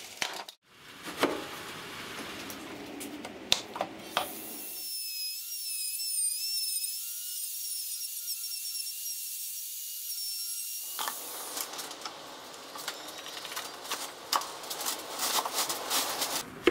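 A Pantorouter XL router makes a test cut in wood: a high-pitched router whine with a rasping cut runs for several seconds, framed by clattering workshop handling before and after.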